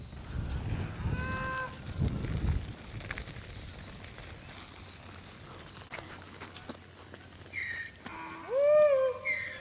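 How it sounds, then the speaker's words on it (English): Cattle on a farm pasture low repeatedly, a deep drawn-out moo near the start and another louder close call at the end, with faint rustling and footsteps between. "Gonna get some feed out here for these cattle."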